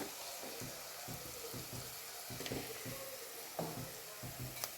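A curry with cinnamon and turmeric sizzles steadily in a hot pan while a spoon stirs it, giving soft periodic scrapes and a few light knocks under a continuous hiss, moderately quiet and close.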